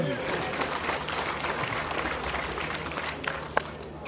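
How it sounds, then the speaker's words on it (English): A church congregation gives a round of applause in praise, sustained clapping from many hands filling the room, easing off near the end with a few stray louder claps and voices mixed in. "Give Him a hand clap of praise."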